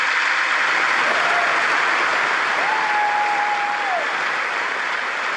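Loud, sustained applause from a large crowd during a speech to the US Congress, a thick even roar of clapping that holds steady throughout, with a faint tonal whistle briefly rising above it.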